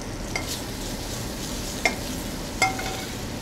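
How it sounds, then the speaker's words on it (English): Asparagus roasting in a hot restaurant pan, sizzling steadily and loudly up close, with a few sharp clinks and scrapes as the spears are stirred. "I tend to like to roast my asparagus a little bit in my pan"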